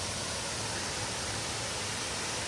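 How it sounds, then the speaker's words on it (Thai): An artificial waterfall in a railway-themed city park gives off a constant, even hiss of falling water, close and steady across the whole short stretch with no voices. "วันนี้เปิดน้ำตกด้วย มีน้ำตกให้ดูด้วยนะวันนี้นี่"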